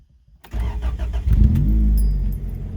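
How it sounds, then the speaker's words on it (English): A car engine cranks and fires up after a brief silence, then settles into a loud, steady idle with a low rumble close by. The car is being set up to shoot flames from the exhaust. "Then you just test it, start the engine and everything."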